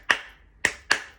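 Three sharp hand claps, close and dry, spaced unevenly to tap out a heartbeat rhythm, with the second and third coming close together.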